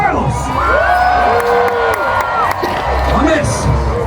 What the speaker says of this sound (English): Raise your voices if you cheer for Carlos.